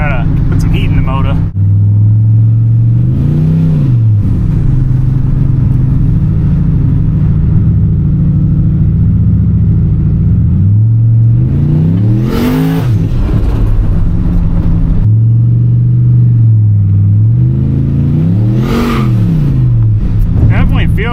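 Turbo LS engine in a street truck, loud and close, idling with a deep rumble and blipped into three sharp revs that rise and fall, with a voice talking briefly over it.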